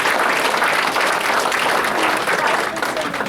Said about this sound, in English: Can we give them all a round of applause for a great night?